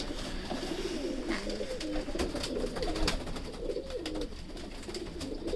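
Sialkoti pigeons coo in a steady, close, overlapping murmur of low throaty calls that runs the whole time at an even level, with no talking.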